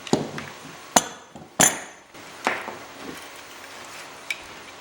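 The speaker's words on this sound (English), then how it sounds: "you take a crescent wrench again, and you hold that fitting and you just turn it" A crescent wrench knocks and clinks in a few sharp, sparse metallic taps while tightening a fitting on a wall sconce light. It is close and fairly quiet, with nothing else in the room.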